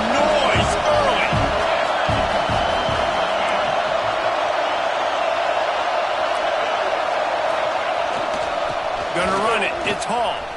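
A football stadium crowd roars and cheers in a steady, loud wall of noise throughout, with a commentator's voice talking over it.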